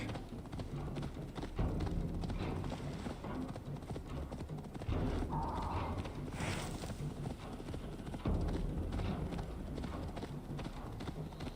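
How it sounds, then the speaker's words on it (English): Horse hooves gallop in a video game, a steady, rapid clip-clop rhythm running continuously at moderate distance, with an occasional whinny over the drumming hoofbeats. "Spur that horse onward."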